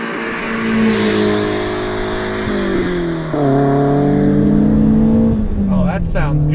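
A 1988 BMW E30 M3 engine revs hard to about 6,800 rpm through rising and falling pitches as it climbs through the gears, loud and close, with a brief dip between shifts.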